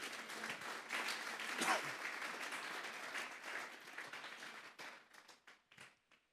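A congregation applauds at a church service, a dense, sustained round of clapping that swells early and then thins into scattered claps before fading out.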